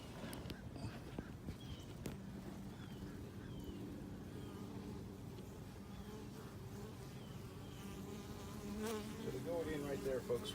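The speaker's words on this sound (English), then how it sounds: "show you actually where the bees are going in and out" A steady, dense buzzing of many bees close by at a nest inside a camper, continuous throughout and swelling slightly louder toward the end.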